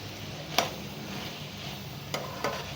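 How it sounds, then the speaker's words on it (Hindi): A spoon stirs and mixes spiced black chickpea chana chaat in a bowl, giving soft scraping strokes with a few sharper clinks against the dish, close and alone. "सबको अच्छे से मिक्स करेंगे।"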